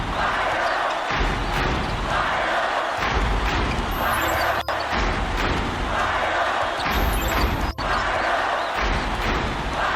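Arena crowd noise from a College Basketball 2K8 game roars continuously with surging cheers, a couple of sharp thuds and pulsing swells, loud and close throughout.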